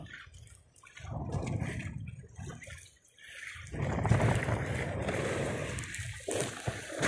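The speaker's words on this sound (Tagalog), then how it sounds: "Oh, lakas pa ng alon." Strong sea waves slosh and splash against a small fishing boat out for squid and crabs, rising and falling in irregular surges, close and fairly loud.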